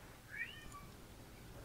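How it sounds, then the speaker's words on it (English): A cat meows in a short rising-falling call, fairly faint and somewhat distant against steady background hum in an outdoor yard setting, with no talking. "I'm not sure if you can hear the damn cat."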